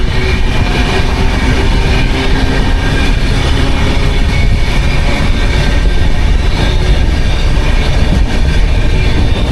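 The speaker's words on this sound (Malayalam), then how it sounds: "നമ്മുടെ ട്രെയിന് ഇത്രയും ക്വിക്കായിട്ടുള്ള ആക്സിലറേഷൻ കിട്ടിയത്, പെട്ടെന്ന് തന്നെ സ്പീഡായത് ഇതിന് WP7 ലോക്കോ ആയതുകൊണ്ടാണ്" An electric train with a WP7 locomotive accelerates quickly, rolling loudly and close, a continuous heavy rumble with grinding rail noise and a faint motor whine throughout.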